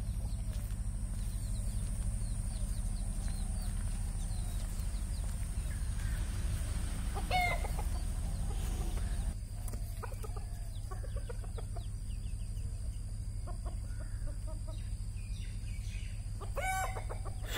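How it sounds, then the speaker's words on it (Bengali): Roosters and hens roaming a field beside a forest resort near Chilapata, with scattered clucks and a crow rising over a low steady rumble, some calls nearer and others distant. "আর চারিদিকে এই মাঠের মধ্যে মোরগ মুরগি এগুলো ঘুরে"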